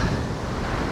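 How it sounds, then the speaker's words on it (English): Strong wind buffeting a cyclist's microphone on a road ride near Vientiane, Laos, a dense continuous roar, loud and close. "I can't even cycle in this wind"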